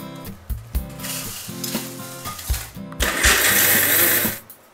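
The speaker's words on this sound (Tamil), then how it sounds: "இப்போ நம்ம திருப்பியும் மிளகாய் வற்றலை இது கூட போட்டு அரைக்க போகிறோம்" A mixer grinder crushing dried red chillies with a piece of jaggery: short rattling pulses, then a louder sustained whirring run that stops abruptly, close by.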